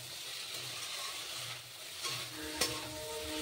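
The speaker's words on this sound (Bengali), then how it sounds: "এখন আমি সবজিটাকে কষিয়ে নেব" Winter vegetables stir-fried in a pan, a steady close sizzle with scraping stirs and one sharp utensil clack near the end, no voices.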